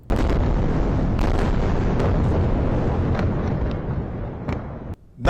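Explosions in Gaza City make a loud, sustained rumbling roar with several sharp blasts striking through it, then tail off into a brief lull before another burst at the end; no one speaks.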